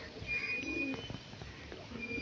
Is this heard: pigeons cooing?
yes